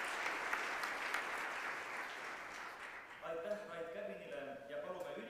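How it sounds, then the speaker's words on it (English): An audience applauds at a ceremony for the 105th anniversary of the Republic of Estonia, with sustained clapping that fades as a voice begins speaking. "let's give a big round of applause to the whole team"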